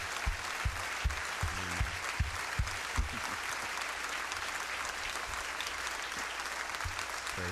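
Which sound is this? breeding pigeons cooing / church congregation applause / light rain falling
church congregation applause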